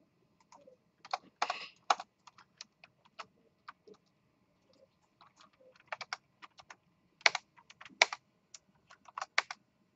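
Keys on a computer keyboard clatter in irregular bursts of quick clicks, close and fairly quiet, with short pauses between runs of typing during a programming lecture.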